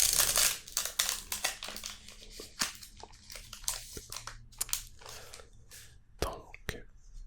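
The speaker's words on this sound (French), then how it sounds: "Oh, un autre paquet qui s'ouvre super bien." A Pokémon card pack wrapper from a mini tin bundle is torn open by hand up close, giving sharp crinkling and crackling bursts between quiet gaps, with soft whispered talk in between.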